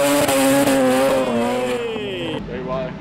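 Car drifting with tire squeal at a motorsport event in Singapore, a loud sustained squeal over a revving engine that drops in pitch, with speech over it.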